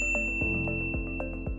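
A notification bell sound effect gives a quick series of bright, ringing dings in close succession, each with a short shimmering decay, clear and alone.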